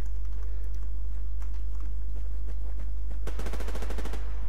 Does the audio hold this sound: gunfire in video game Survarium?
yes